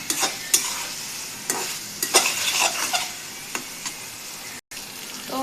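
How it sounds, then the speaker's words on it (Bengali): Chicken chaap fries in a pan with steady sizzling, broken by repeated scraping stir strokes and clinks of a spatula, close and without talk. "যেরকম লেড়ে চেড়ে ভালো করে ভাজা ভাজা করে নেবেন।"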